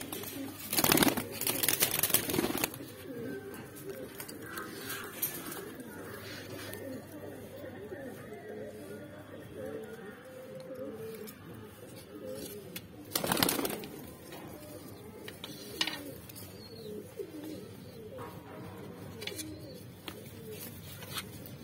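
Saharanpuri kasni pigeons held for sale at a mandi in Dhanaura coo in soft, continuous murmuring layers, with occasional wing flaps and louder bursts standing out nearby, and faint voices now and then.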